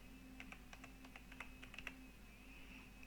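Quiet, steady clicking of someone typing on a computer keyboard, irregular keystrokes over a faint electrical hum, with no talking.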